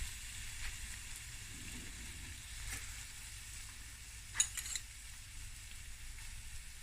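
Finely chopped garlic sizzles quietly in a pan with petit pois, under a steady faint frying hiss broken by a few scraping clicks of stirring.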